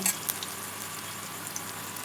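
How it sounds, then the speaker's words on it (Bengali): Onion and green chili fry in hot oil for a mustard-oil lentil mash, giving a continuous bright sizzle and crackle with a few sharper pops near the start and no speech. "তেলটা গরম হয়ে গেছে, দিয়ে দিলাম পেঁয়াজ আর কাঁচা লঙ্কা।"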